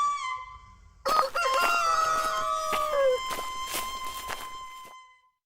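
A red rooster crows once, loud and close, a long drawn-out call that trails off, with a few footsteps and soft shuffling around it in an otherwise quiet setting.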